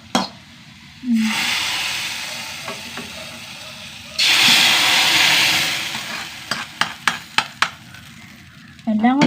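Mustard seeds hit hot oil in a pan, bursting into a loud sizzle and hiss that swells and fades in two surges, followed by sharp crackling pops as the seeds splutter, with a little stirring.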